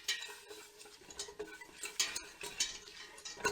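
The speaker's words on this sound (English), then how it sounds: "we're just going to give it a good whisk to cook the flour" Whisk scraping and ticking against a pan as all-purpose flour is cooked with fat, a quick irregular metallic rattle of close taps and scrapes with no talking.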